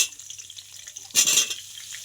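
Cut potato and papaya drop into hot oil, a sudden loud burst of sizzling that rises after a quiet start and then settles to a softer crackle, close by.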